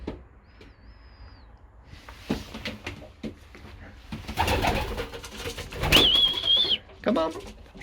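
Pigeons cooing inside a loft where young birds have just hatched, a few soft coos and chirps near and far, with rustling and a voice in the background.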